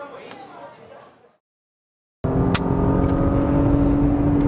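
A Porsche Panamera 4S is driven on a wet race circuit in the rain. A fading noise drops into a moment of silence, then a loud, steady engine drone cuts in and holds close.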